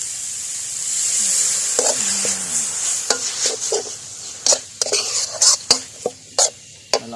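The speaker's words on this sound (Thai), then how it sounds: "แล้วเราก็ใส่น้ำลงไปนิดหน่อยนะครับ" Wild boar red curry stir-fry sizzling steadily in a pan as a splash of water goes in, with sharp scraping and clinks of a utensil against the pan building toward the end; no talking.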